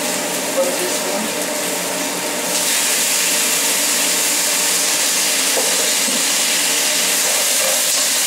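Cooking wine poured into a hot pan while braising spareribs with Japanese squash, a loud steady sizzle and steam hiss that swells partway through and holds, close and continuous.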